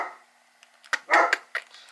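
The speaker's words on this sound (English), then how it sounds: "sorry for the dogs barking." Several dogs bark in short bursts in a home during a card kit unboxing, with a few sharp yips clustered in the second half, close and fairly loud.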